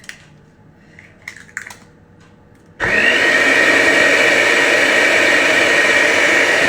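An electric mixer whirs loudly and steadily as it beats blondie batter after eggs go in, starting abruptly after a few quiet seconds of faint clinks and kitchen handling.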